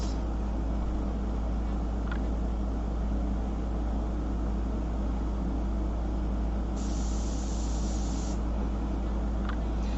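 Steady airbrush hiss spraying paint onto shellac-covered paper runs continuously throughout, an even, close spray of air with a brief louder burst partway through.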